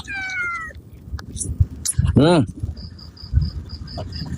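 A cat meows once, a rising-falling harmonic cry, amid outdoor clatter, a high insect-like trill, and people talking nearby during a meal.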